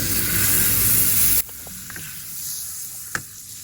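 Bread toasting in a hot Teflon pan at breakfast, a loud steady sizzle that cuts off abruptly, followed by quiet pan noise with a few faint taps and a sharp click near the end.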